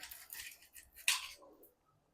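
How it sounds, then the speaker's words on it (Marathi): A few crisp scraping cuts of a knife finely chopping coconut flesh, close by, followed by one sharper slicing stroke, with quiet pauses between. "खोबरा आपल्याला असा बारीक कापायचा आहे"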